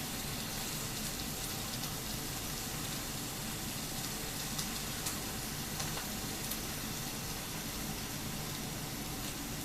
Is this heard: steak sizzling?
yes